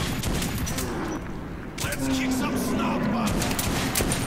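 Dense gunfire from the Metro 2033 video game, a sustained crackle of shots filling the whole stretch, loud and close, with someone shouting excitedly over it.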